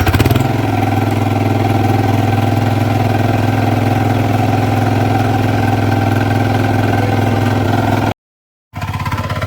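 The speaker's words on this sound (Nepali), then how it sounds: "ट्र्याक्टर लिएर खेतमा जानु लाग्यो।" A tractor engine runs at a steady idle on the way to a rain-soaked paddy field for rice planting, a loud, close, even rumble that cuts out briefly near the end.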